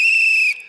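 A toy whistle at a comedy talk show is blown in one loud, steady, shrill blast lasting about half a second, then cuts off abruptly into near silence.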